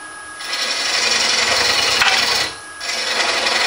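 A carbide hand tool cutting wood from the side rather than straight into end grain, a loud close rasping scrape in two long strokes with a short pause between.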